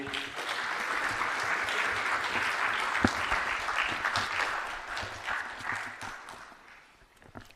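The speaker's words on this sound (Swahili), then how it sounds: "Naomba sasa tusimame kwa heshima ya Mheshimiwa Rais na tumpongeze kwa makofi" Sustained applause from a formal audience standing to honour the President of Tanzania at a state gathering, a steady dense wash of clapping that holds for several seconds before thinning out at the end.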